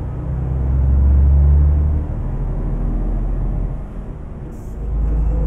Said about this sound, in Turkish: O gerçek Mercedes'in horultusunu alabiliyorsun işte.